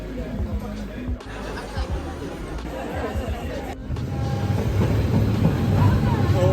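A train rolls through Hanoi's narrow train street, a loud rumbling with rattling wagons that grows stronger toward the end, amid a crowd's chatter and voices nearby.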